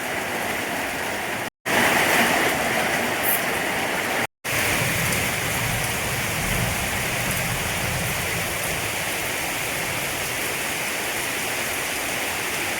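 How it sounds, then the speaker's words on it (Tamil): Heavy rain falls outside a house, a steady dense hiss with no pauses in the downpour, interrupted twice by brief cuts of silence. "அழகாக மழை வருது பார்த்தீங்களா நல்ல மழை தானே"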